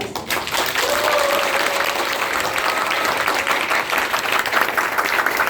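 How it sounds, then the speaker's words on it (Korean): An indoor audience at a town hall meeting with citizens applauds loudly and continuously, with many hands clapping together and faint voices mixed underneath. "다시 한번 큰 박수."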